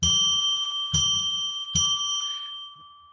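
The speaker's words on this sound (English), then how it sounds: "I'm going to ring a bell 3 times now to declare sacred space" A small bell struck three times at an even, unhurried pace to declare sacred space, each clear ring sustaining and fading, the last one dying away slowly.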